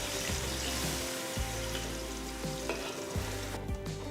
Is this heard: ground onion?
yes